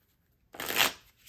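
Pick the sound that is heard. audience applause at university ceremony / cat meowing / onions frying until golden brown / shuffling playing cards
shuffling playing cards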